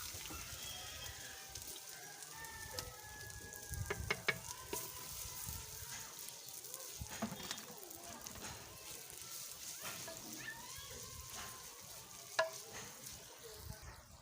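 Onions frying in a pan for moong dal, a continuous crackling sizzle with scattered pops and occasional stirring scrapes, close and steady throughout, no talk over it.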